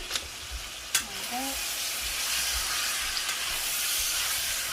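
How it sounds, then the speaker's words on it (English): Meat sizzling steadily as it browns in a hot pan, a continuous bright frying hiss with occasional soft scrapes and clicks, fairly close, while a voice briefly speaks over it. "the only thing I'm going to be doing is browning it"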